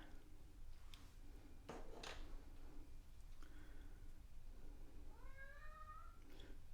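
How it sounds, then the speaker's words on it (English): An upset house cat meows in a rising, wavering call near the end, after a few short sharp knocks and rustles in a quiet room with a low background hum. "My cat is very upset."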